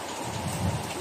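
Rain falls steadily for about a second, a dense soft hiss with no distinct drops and no voices.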